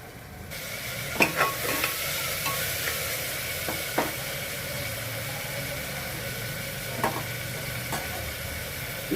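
Ivy gourd stir-fried in a pan gives off a steady sizzle, broken by occasional scrapes and taps of a spatula at an uneven pace, with no talking.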